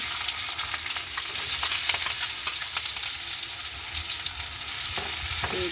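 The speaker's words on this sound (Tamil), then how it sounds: "நாங்கள் இந்த டைம் வெட்டி வச்சிருக்கிற வெங்காயத்தை சேர்க்க போகிறோம்" Chopped onions fry in a pot with a constant loud sizzle and crackle, occasional stirring scrapes, close up and without talking.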